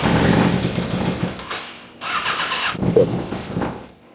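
A Yamaha FZX750 motorcycle engine cranks with the choke on, catching in a few uneven bursts that flare up and fade between pauses, close and fairly loud.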